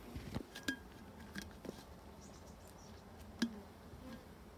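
Faint, steady buzzing of a sample of about 300 honey bees with a few soft taps and clicks, low and close in a quiet space.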